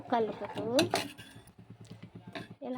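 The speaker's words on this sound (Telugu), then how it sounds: "ఇలా కలుపుతూ ఉడికించుకుంటే బెటర్" A spoon stirs talla nuka prasadam as it cooks in a pot, giving a quick run of rhythmic metallic scrapes and clinks against the pot, close and fairly quiet, with a voice talking before and after the stirring.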